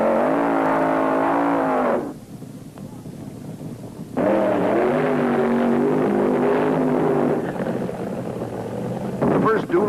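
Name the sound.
1970s funny car drag racers doing burnouts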